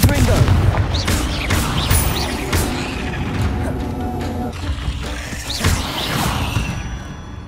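Repeated booming spell blasts from the Confringo fire spell in Hogwarts Legacy, heavy low thuds bursting several times over a dense rumbling battle mix, loud and close with no talk.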